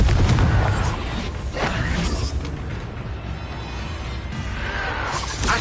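Confringo blast spell bursting in a Harry Potter wizarding video game, a loud booming explosion up front followed by a sustained rumbling crackle that stays dense and loud for several seconds, no voices over it.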